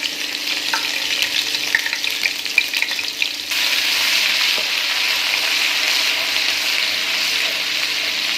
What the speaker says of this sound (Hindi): 2 मिनट के लिए आपने इसको अच्छे से फ्राई कर लेना है